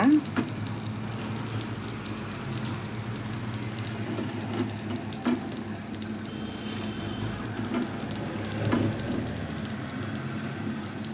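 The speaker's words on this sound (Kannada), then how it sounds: "ನೋಡಿ ನೀರು ಕುದೀತಾ ಇದೆ" Water boils in a pot, giving a steady close bubbling and crackling patter throughout with occasional sharper pops, no voices over it.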